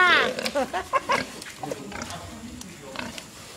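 Pigs at a piggery farm grunt and squeal in a rapid run of high, harmonic oinks, loudest at the start and then settling into lower grunts, while people talk nearby.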